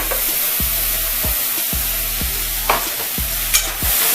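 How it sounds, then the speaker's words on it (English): Food sautéing in a small pot on the stove, a steady sizzle broken by several regular scraping stirs close to the mic, with no talking. "I'm going to just put it in there, saute it for a little bit"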